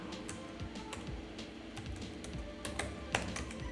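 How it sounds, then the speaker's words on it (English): Typing a short command on a computer keyboard, a run of light, quick key taps at close range with a slightly sharper final keystroke, no voices. "So we will go to new window and I will type here"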